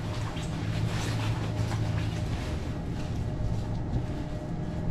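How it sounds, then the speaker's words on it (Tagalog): Riding a scooter outdoors gives a constant rumbling drone of motor and wind noise, steady and fairly loud throughout, with no clear voices. "So, tayo ay mag-i-scooter ngayon."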